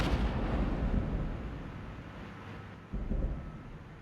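Mortar fire rumbling in the wargame Armored Brigade: deep, booming low-end blasts that roll continuously, easing off before a fresh heavy impact hits near the end, with no voices.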